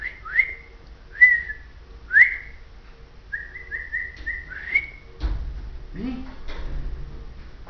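Someone whistles to call a dog, several short rising whistles followed by a longer warbled one, fairly close, and then a few thumps and household knocks as things move about.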